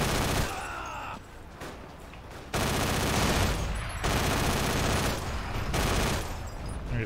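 Loud, dense gunfire from the multiplayer game Forgotten Hope 2 on the Arad map: sustained overlapping rifle and machine-gun bursts across the whole stretch, with a brief dip in intensity partway through before the firing swells again.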